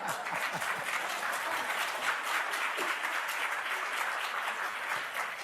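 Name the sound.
audience clapping at town hall meeting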